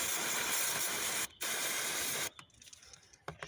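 Brake cleaner aerosol sprayed onto the ignition coil sockets of a car engine gives a loud, close, steady hiss that breaks briefly, resumes, then cuts off into quiet workshop handling noises.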